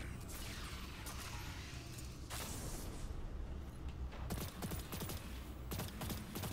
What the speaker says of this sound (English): I'm over here using an SMG like an auto rifle.